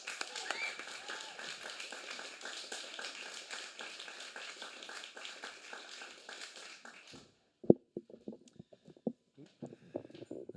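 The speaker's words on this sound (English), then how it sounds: "So can everyone give a huge cheer for Gavin" Audience at a Bath Fringe Festival storytelling night cheers and applauds for the reader Gavin, a dense steady roar of clapping for about seven seconds that cuts off, followed by scattered claps and bumps.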